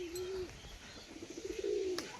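A female Giribaz tumbler pigeon of jhamar colouring gives low, throaty coos, one drawn-out call, then a run of quick soft pulses swelling into another, heard close and fairly quiet.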